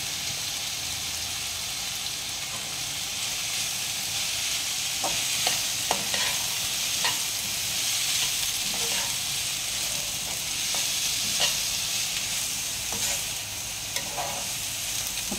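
Mixed vegetables with cabbage sizzle steadily in a hot pan while a utensil stirs them, giving scattered scraping clicks over a constant close frying hiss, with no voices.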